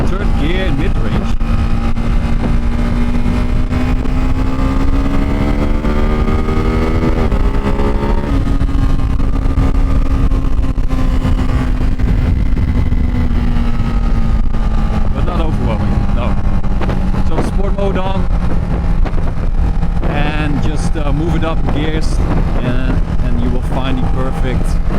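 A Ducati Hypermotard 698 single-cylinder motorcycle pulls hard through third gear, its engine note climbing steadily and loudly with a continuous drone and shifting pitch. A rider talks over it.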